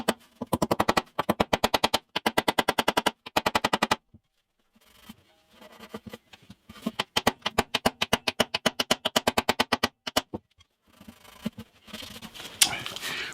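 Rapid bursts of loud hammer taps driving a fret into the fretboard of a 50-year-old acoustic guitar, sharp and resonant through the sound box, coming in several quick runs separated by short pauses.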